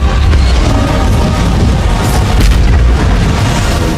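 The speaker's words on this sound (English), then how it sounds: "In the end, Star-Lord opened his hand, releasing the full force of the stone and completely destroying the once arrogant Ronan." A film's Power Stone energy blast tears through the scene as Ronan is destroyed: a loud, sustained explosive roar with heavy deep rumble that stays dense and unbroken from start to finish, with no talk over it.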